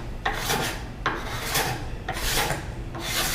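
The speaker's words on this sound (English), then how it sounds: "I'm just going to take this card scraper. I'm just going to start cleaning the surface of this board here." A card scraper with an aggressive burr pulled across a walnut cutting board: four long, loud, close rasping passes, each with a sharp start, over a constant low hum of room noise.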